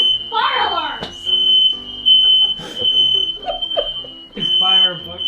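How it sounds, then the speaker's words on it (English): A kitchen smoke detector sounds a loud, continuous high-pitched tone during Thanksgiving dinner cooking, ringing under several people talking excitedly. "we know the smoke detectors work"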